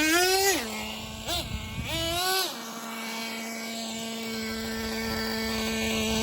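The nitro engine of a Traxxas Nitro 4-tec 3.3 RC car revs in quick rising and falling bursts, then settles into a steady, buzzing high-pitched idle that holds to the end.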